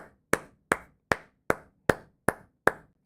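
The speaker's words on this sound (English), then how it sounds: "Clap it up for her." Eight sharp, evenly spaced claps ring out about twice per second, each crisp and close with a brief decay, clear against near silence and with no voices.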